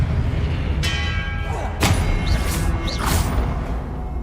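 A spell being cast in the video game Hogwarts Legacy: sharp whooshing bursts and a heavy thud ring out over a constant low rumble of game sound, followed by two fainter swishes. No one talks.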